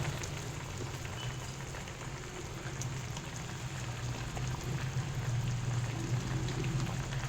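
Rasmalai dough balls simmer in sugar syrup, giving a steady close bubbling and gentle seething hiss that grows slightly louder toward the end, with no voices.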